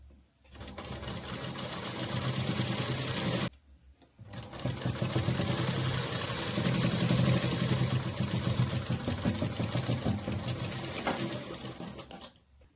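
A sewing machine stitches the collar neck of a kurti in steady continuous runs, near and fairly loud, with a brief pause around a third of the way through before the whirring resumes.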